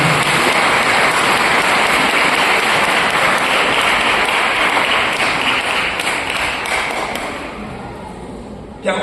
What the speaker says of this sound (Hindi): हम उनके जीवन के लिए भी ताली बजाएंगे